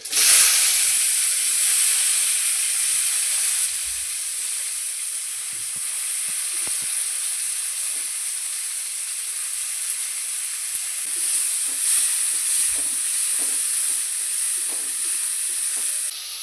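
Mustard seeds, cumin and onion fry in hot oil for sundekayi gojju, giving a loud, constant close-up hiss that barely varies across the whole stretch.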